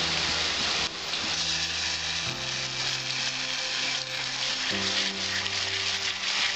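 Ginger garlic paste hits hot oil in a pan while cooking Bengali-style dahi chicken, giving a loud, steady sizzle and crackle that holds without pause under a faint low hum.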